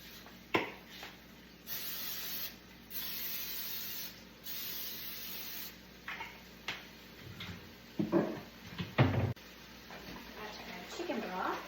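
Dishes sprayed with a spray bottle while tidying a home kitchen during cooking, a few short hissing bursts alongside clatter and handling noises, close by, with talk heard in places.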